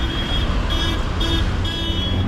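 Car horns honk repeatedly in dense Mumbai street traffic, several overlapping toots sounding in short bursts over a loud continuous roar of engines and road noise.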